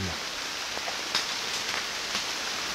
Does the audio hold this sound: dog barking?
no